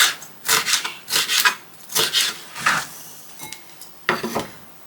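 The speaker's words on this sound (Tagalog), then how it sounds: "Ihalo ko na lang" A utensil scrapes and stirs chicken and pork adobo in a pot, making repeated rough, close scrapes and clanks in an uneven rhythm with short pauses between strokes, and nobody talks.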